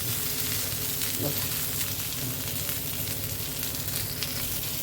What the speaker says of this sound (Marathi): एकीकडे इथे फ्राय होते, राण्या फ्राय